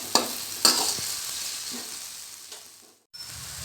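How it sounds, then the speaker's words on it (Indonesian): Ground spice paste sautéing in a pan for Jakarta-style beef semur: a continuous close sizzle broken by a few sharp utensil clinks against the pan, then a brief drop into silence before the frying resumes. "Bumbu-bumbu yang sudah kita haluskan lalu ditumis."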